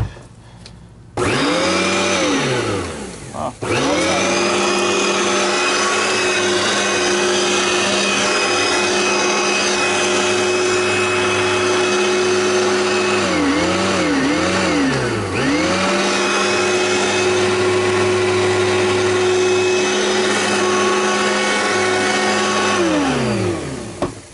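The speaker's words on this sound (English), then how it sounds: "Motor noise." A Hoover commercial air machine with a two-speed switch spins up and runs steadily, a loud, close motor whine with a brief dip and recovery midway before cutting off at the end.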